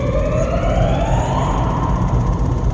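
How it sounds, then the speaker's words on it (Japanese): Earthquake warning siren sounding in Aomori, a loud, continuous rising wail heard over steady background rumble from road traffic, with no talk. "サイレンが"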